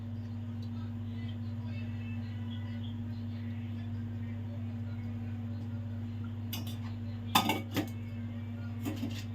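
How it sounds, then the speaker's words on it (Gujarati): A kadai is set down on a gas stove for an ivy gourd sabzi, with a few sharp metal clinks late on over a steady low burner hum. "તો ગેસ ઉપર કઢાઈ મૂકી દઈશું અને ગેસ ચાલુ કરી દઈશું"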